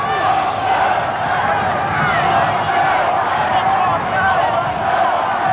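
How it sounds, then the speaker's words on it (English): A huge crowd at a 1992 Canberra versus Auckland rugby league match roars steadily, a dense continuous swell of cheering and shouting that fills the whole stretch without a break. "Great to hear the huge crowd too, Tony,"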